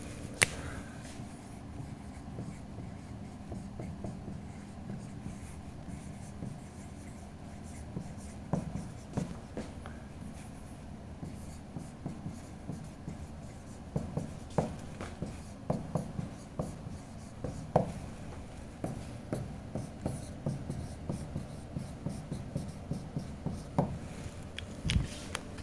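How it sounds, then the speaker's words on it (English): Steady writing on a board during a physics lecture on dielectrics, a continuous run of scratchy strokes and taps that grows busier and more rhythmic as it goes on, close and clear with no talking. "maybe I should write that on the board"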